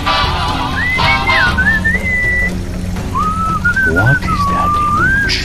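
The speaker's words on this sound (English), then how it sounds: "chanting, whistling sound" Game music from Sam & Max, a rhythmic backing beat under melodic whistling that slides and wavers across two long phrases, with a low chanting layer throughout; steady, fairly loud and close.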